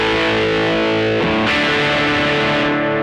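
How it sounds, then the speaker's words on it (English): A Fender 60th Anniversary American Standard Stratocaster through a distortion pedal rings out a sustained chord, then shifts to a new chord partway through, thick and saturated, played alone. "Bring in the distortion pedal."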